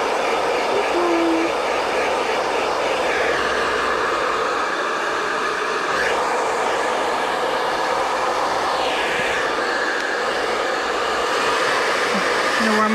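A hair dryer blows steadily and loudly throughout while drying a Yorkie-Poo puppy during its first grooming, a continuous whooshing airflow.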